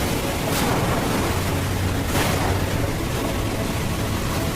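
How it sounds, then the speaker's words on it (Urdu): High waves roll and crash in a storm at sea around a boat, a constant heavy rushing wash with wind noise and two louder surges, no voices. "اچانک اونچی اونچی لہریں اٹھنے لگیں۔"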